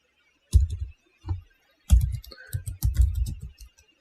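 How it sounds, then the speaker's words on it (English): Computer keyboard typing in short bursts of quick, close clicks with brief pauses between, during an nmap scan and SMB enumeration session in a cybersecurity lab. "I don't like typing things twice if I don't have to."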